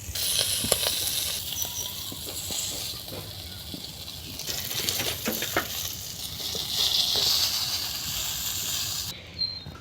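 A big huda fish frying in hot oil gives a steady, loud, broadband sizzle and crackle that runs unbroken from start to finish with no voices over it.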